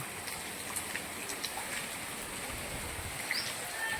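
Steady monsoon rain falls with a dense hiss and scattered drops, constant throughout, no voices.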